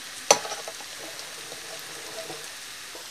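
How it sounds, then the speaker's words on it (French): Leeks fry in a pan with a soft continuous sizzle and faint crackles, opening with one sharp clack of a utensil. "Mes poireaux commencent à roussir"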